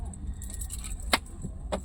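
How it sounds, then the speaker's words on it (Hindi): Car keys jangle in brief metallic bursts as they are handed over inside a car during a driving lesson, close by, with a low background hum and no clear talk. "नहीं, ये ले लीजिए चाबी,"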